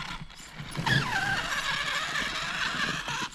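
A Kyosho FO-XX radio-controlled car creeps slowly over an obstacle, its small motor whining with rising and falling pitch and a brief scrape or squeal, steady and fairly close throughout.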